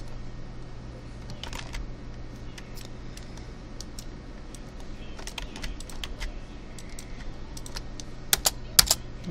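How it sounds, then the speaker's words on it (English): Computer keyboard typing at a desk, quick irregular keystrokes clicking throughout over a steady low hum, with a few sharper, louder taps near the end; no one speaks. "this is where you start typing."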